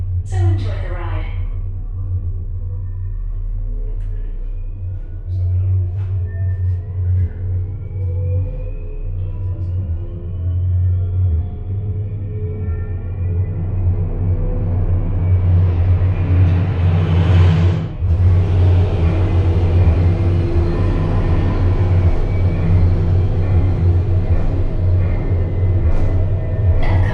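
A low, building rumble fills the simulated spacecraft descent at EPCOT's Space 220 restaurant, a deep steady drone that swells in loudness over the stretch, with a whooshing surge midway and a voice speaking over it at the start.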